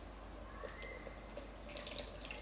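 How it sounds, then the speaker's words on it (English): Strained strawberry juice pours in a quiet, steady trickle into a small jug, with faint splashing and dripping. "that beautiful red liquid pouring out"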